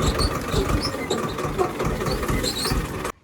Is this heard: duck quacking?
no